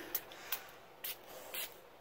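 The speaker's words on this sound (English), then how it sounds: "we're going to keep them hydrated with this spray bottle that we got" A spray bottle misting an oyster mushroom grow kit gives four short, soft hissing spritzes at even intervals, close and quiet, with no voices.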